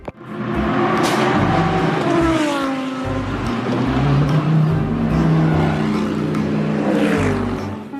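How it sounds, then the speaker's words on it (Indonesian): A toy race car sound effect plays loud and close: a continuous engine roar with rising and falling revs as gears shift, sustained for about eight seconds with no talking. "mobil balap."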